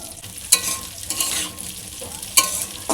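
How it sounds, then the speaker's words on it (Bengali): Carrots, capsicum and beans fry in hot oil with a bright, continuous sizzle, punctuated by several sharp scrapes of stirring at irregular intervals, close and fairly loud with no talking. "এখানে আছে গাজর ক্যাপসিকাম আর বিনস এবারে দিয়ে দেবো তেলের মধ্যে এক এক করে"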